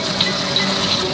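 A toilet flush in a prison escape video game, a brief continuous rush of gushing water at steady loudness with no pauses.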